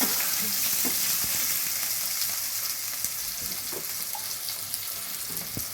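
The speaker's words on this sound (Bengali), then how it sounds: "আলুটাকে একটু নাড়াচাড়া করে নেব" Potatoes and vegetables being stir-fried in a pan give a dense, continuous hiss of sizzling oil with scattered small pops and stirring clicks, loud at first and easing slightly.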